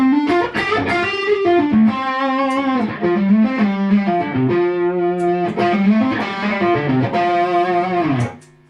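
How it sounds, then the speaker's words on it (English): Electric guitar played through a tweakable overdrive pedal with mid boost, loud sustained distorted chords and bends in a recording studio, ringing continuously for several seconds before cutting off near the end. "a tweakable drive in this situation makes sense. It's also got a mid boost."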